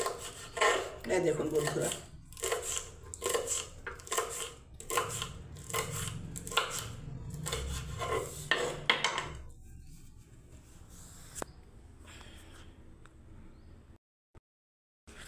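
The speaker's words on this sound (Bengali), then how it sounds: "এই 4টে বিনসটাকে আমি কেটে নিচ্ছি" Green beans, four of them, chopped with a knife on a board, giving a run of quick, close, crisp cuts in bursts that fade into quiet; a voice talks briefly near the end.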